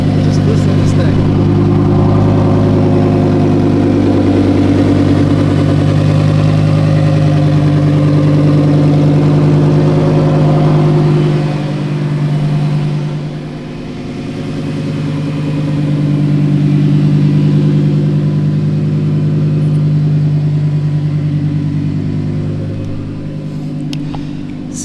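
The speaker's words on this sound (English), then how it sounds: "So, the Lambo. Just listen to this thing." A Lamborghini engine idles with a deep, steady rumble, then swells in a couple of revs before settling back to idle, loud and close throughout.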